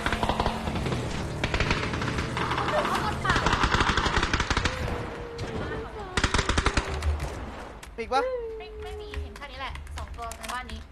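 Gunfire in a shooting video game: rapid machine-gun bursts and scattered single shots, loud and close, with players talking over the action and breaking into the shooting.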